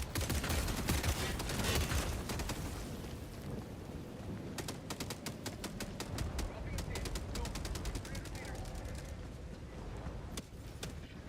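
Rockets and gunfire burst in the Helldivers 2 video game as a weapon is tested, giving rapid volleys of sharp blasts over a dense rumbling battle din, with a person talking underneath.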